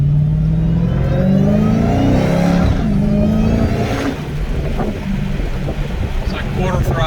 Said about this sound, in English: Supercharger is so loud, man, isn't it? It is. Hear that whine?